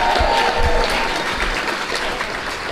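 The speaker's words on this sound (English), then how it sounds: "If y'all don't give her another round of applause." Steady, full audience applause at a school district State of the Schools event, a continuous dense roar of clapping with crowd murmur mixed in.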